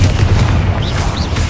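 A loud, sustained explosive boom from the Confringo fire spell in Hogwarts Legacy, deep rumbling blast filling the brief moment with no speech.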